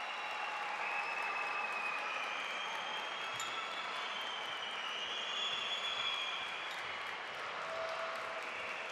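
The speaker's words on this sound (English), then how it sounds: "Big cheer from the crowd as Ferhat Arujan gets ready to compete." A gymnastics World Cup arena crowd cheers and claps for a competitor getting ready, a steady, fairly faint roar of applause from a distance with faint whistles above it.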